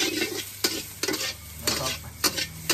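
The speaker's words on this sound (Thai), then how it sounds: "ผัดให้เข้ากันผัดให้เข้ากัน" Pork with chili and salt being stir-fried in a pan: a spatula scrapes the pan in quick, regular strokes, about five of them, over a constant close sizzle.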